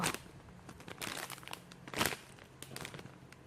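A plastic zip-lock bag holding a squishy toy crinkles and rustles up close in a few short bursts, with the loudest crackle near the middle.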